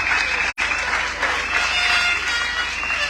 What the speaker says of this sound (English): clap for the part, clap for it.